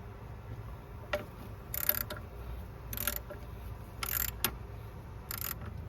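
A ratchet with a 10mm socket and extension works a bolt loose on a 2008 Ford Escape during a tune-up, heard as several short bursts of quick mechanical clicking separated by pauses over a quiet background.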